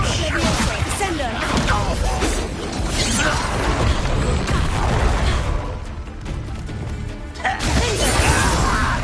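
Descendo spell cast in Hogwarts Legacy combat, heard as dense crashing, shattering and mechanical clattering with whooshes, loud and busy throughout with a voice speaking over it.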